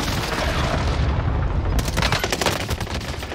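Heavy gunfire in the video game Warzone 2, a dense, loud, continuous roar of shots and booms with rapid automatic bursts in the second half, close and unbroken throughout.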